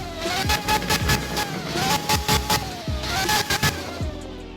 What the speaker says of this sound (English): Pretty aggressive rev sound, isn't it?